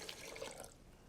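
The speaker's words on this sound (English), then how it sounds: "And we're going to add 3 cups of water." Water poured into a blender jar while making a plant-based basics recipe, a steady broadband splashing stream running the whole moment at moderate level, with no talking.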